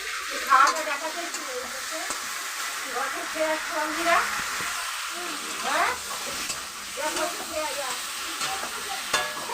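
A potato and eggplant curry sautéing in a pan, with a steady hiss and sizzle and occasional stirring scrapes while voices talk over it.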